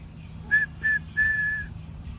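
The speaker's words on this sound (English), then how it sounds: "you know that I whistled 3 notes consecutively." A person whistles three clear notes in a row, the first two short and the last held longer, close and alone over a faint background hum.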